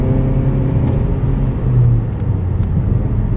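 Steady, close engine drone and intake rumble from a 2019 Mazda 3 hold at an even level throughout, with a slight swell midway and no speech.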